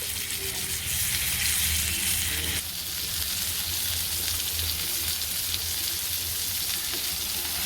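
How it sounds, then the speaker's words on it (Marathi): Stuffed masala pomfret fish shallow-frying in a pan, a steady close sizzle with a brief shift in texture partway through and no talking. "दोन दोन मिनटांनी दोन्ही साईडनी चांगली पलटून घ्या खरपूस आपली पापलेटं तयार होतात"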